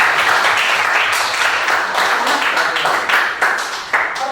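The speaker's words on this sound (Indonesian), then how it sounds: "Tepuk tangan." Loud applause from a group of participants in an online teacher-training lesson, dense clapping with pulsing surges that thins slightly toward the end.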